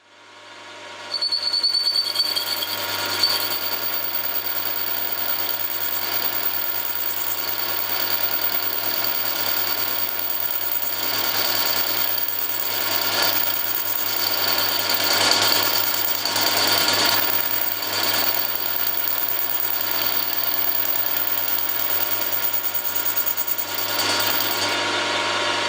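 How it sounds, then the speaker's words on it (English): A boring head on a milling machine cuts into metal with a steady, even whirring hum and a faint rasping scrape, running continuously for over twenty seconds at close range with no voices. "I'll fit the boring head so I can bore it to the final size."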